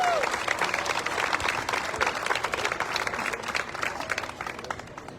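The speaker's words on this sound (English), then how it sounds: "Let's give Grand Marshal Dave Channel a big round of applause." A festival crowd applauds a grand marshal at an apple festival presentation, brisk clapping with sharp individual claps standing out, holding steady before easing off near the end.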